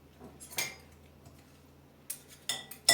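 A utensil stirs a şekerpare mixture with powdered sugar in a pot, giving a few scattered scraping clinks against the metal, with quiet gaps between strokes.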